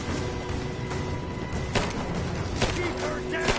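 Rapid gunfire from enemy soldiers in Rise of the Tomb Raider, shots crackling in bursts amid a dense, noisy combat mix, with voices shouting over the action.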